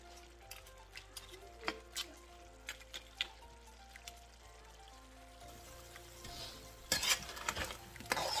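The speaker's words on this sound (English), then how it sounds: "the gravy is really thick, so it's kind of frying" Thick curry crab gravy frying and bubbling softly in a pot with occasional scrapes and clinks of stirring, fairly quiet, then a louder burst of sizzling near the end.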